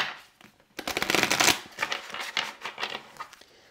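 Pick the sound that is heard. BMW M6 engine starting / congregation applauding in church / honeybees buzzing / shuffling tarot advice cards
shuffling tarot advice cards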